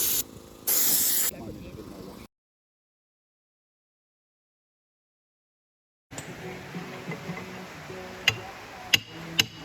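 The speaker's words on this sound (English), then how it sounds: "we're going to use a diesel spray gun on the compressor to clean it out with using diesel" A diesel spray gun hisses loudly in short blasts while cleaning sand from a Ferguson TE20 tractor compressor, then silence, followed by a quieter workshop stretch with sharp clicks and knocks.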